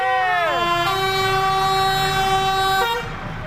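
Melodic telolet horn of a Bin Ilyas Hino RN 285 tour bus, loud and close, with several stacked tones sliding up and then holding a long sustained chord for nearly three seconds before cutting off.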